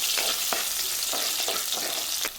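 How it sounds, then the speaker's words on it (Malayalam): Two spoons of garlic sautéing in a pan for a fish curry: a steady, loud hiss of oil with a few soft stirring scrapes, close up and without voices. "പിന്നെ ഒരു 2 സ്പൂണ് വെളുത്തുള്ളിയും കൂടെ ചേർത്ത് കൊടുക്കുകയാണ്. നന്നായിട്ടൊന്ന് വഴറ്റിയെടുക്കാം."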